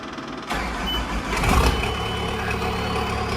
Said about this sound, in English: You hold that key in the start position until you hear the engine